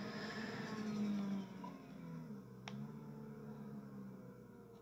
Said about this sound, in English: Oh, you can hear that turbo.